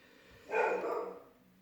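A dog barks outside, a single muffled bark at moderate distance against a quiet indoor background.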